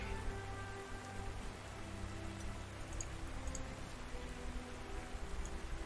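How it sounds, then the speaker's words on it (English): Rain sound effect from the Panzer Corps 2 war strategy game, a steady dense patter of rain on a surface, continuous and even with no talking. "Oh man, the sound of rain."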